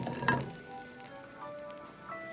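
Cooking oil sizzles softly in a pan while lobster pasta is prepared, a faint crackling hiss, with a brief clatter near the start and a few light tonal clinks later.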